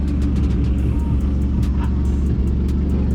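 Mitsubishi Lancer EX car being driven, with a steady low engine and road rumble running loud and continuous throughout, no talk over it.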